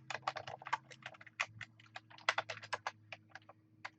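Rapid, uneven keystrokes on a computer keyboard as a domain name is entered, close and clear, over a low steady hum.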